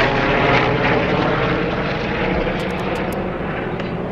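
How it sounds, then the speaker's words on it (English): Helicopter passing overhead outdoors, a loud, steady engine and rotor roar that holds for the whole stretch and eases slightly toward the end, with no voices. "This is the second time there's been a helicopter in my video."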